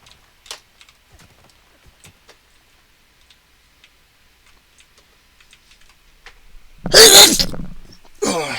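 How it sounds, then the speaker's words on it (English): A single loud, close sneeze bursts out near the end, after quiet faint ticking and tapping, followed by a short breath-like sound. "Oh, sorry, a little sneeze there."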